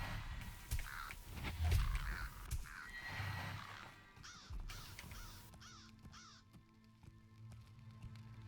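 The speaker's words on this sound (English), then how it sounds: "Oh, there's a couple crows." Crows cawing in a video game, a couple of birds giving repeated harsh caws at middle distance over a low game ambience, calls recurring irregularly through the stretch.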